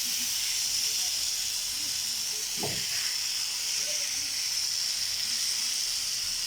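Egg tawa masala sizzling steadily on a nonstick tawa, a loud continuous frying hiss with one brief scrape as the pieces are turned.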